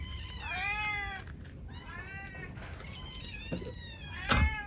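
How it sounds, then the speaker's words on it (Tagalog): Cats meow repeatedly in several drawn-out, rising and falling calls, fairly close and clear, with a brief knock or clatter near the end and no talking. "Pakainin mo natin mga pusa"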